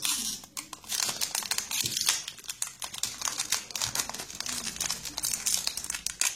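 A Pokémon card tripack from the Explosion Plasma set is opened by hand, its plastic wrapper crinkling loudly and continuously up close. Quick tearing bursts and rustles come in rapid, uneven flurries, with no speech.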